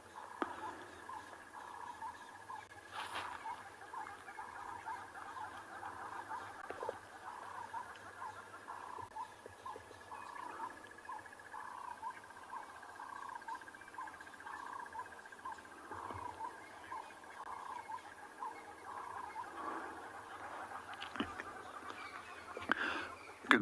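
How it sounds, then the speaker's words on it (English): Distant birdsong at sunrise on an African safari, including hornbills, a crested barbet and noisy rattling cisticolas, forming a faint, steady chorus of repeated chirps and calls over quiet ambience. "Some of the bird calls that you might actually hear in the background is a number of different hornbills, as well as a crested barbet and some very noisy rattling cisticulars"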